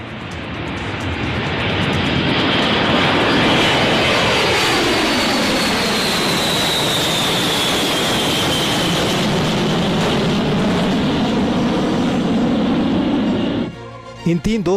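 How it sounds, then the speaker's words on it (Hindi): An F-35 fighter jet roars past at a multilateral air exercise on Guam, a loud, sustained engine blast with a sweeping tonal whine that rises and falls as it passes, ending abruptly. "ये वो फाइटर जेट है जो तीनों की वायुसेना में मौजूद है"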